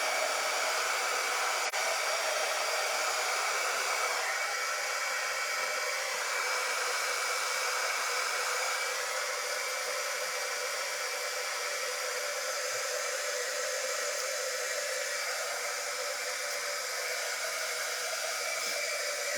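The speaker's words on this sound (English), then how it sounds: "Okay, I'm going to get my heat gun." A heat gun blows continuously close by, softening hot glue on a farmhouse tiered tray, an even roaring hiss that holds steady for the whole stretch with no talk.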